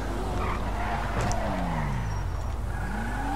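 Sports car in GTA 5 skidding at speed, a loud continuous engine roar with tire squeal sweeping across the clip, steady and close with no talk.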